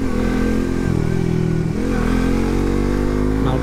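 Suzuki GSX-S150 motorcycle with a loud aftermarket exhaust, its engine droning steadily and close throughout, with a slight dip and rise in revs midway and no talk over it.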